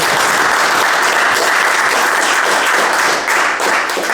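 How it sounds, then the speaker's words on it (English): A crowd at a political discussion event on secession breaks into a warm round of applause, loud and dense clapping that holds evenly throughout with no voices above it. "Can I ask you to give a warm hand of applause to our"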